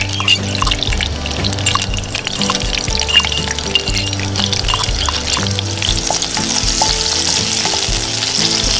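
Green chilli fries in oil in a pan as a loud, bubbling sizzle runs continuously with stirring and pouring sounds, a busy, close kitchen texture and no clear talking.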